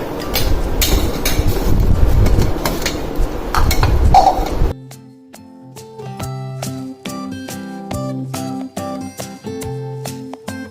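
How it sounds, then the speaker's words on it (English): A blender grinds frozen banana and mango pieces in a loud, rough whir for about four seconds, then cuts off abruptly as music takes over. "Now we will blend it together."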